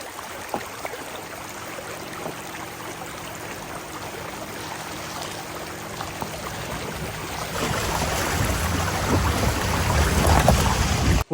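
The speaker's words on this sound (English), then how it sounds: "I had to go through a stream" A car fords a stream in the deep woods of North Georgia, with steady rushing water and splashing throughout, growing louder and denser as the vehicle pushes through during the final few seconds.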